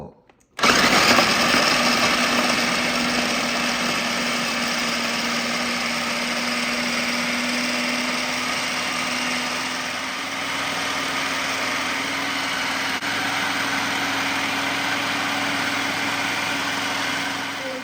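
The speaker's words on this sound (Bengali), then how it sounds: "এখানে আমার আদা ব্লেন্ড হয়ে গেছে।" An electric blender grinds a large batch of ginger with a steady, high-pitched whirring drone that starts abruptly and runs continuously up close, with only slight shifts in pitch.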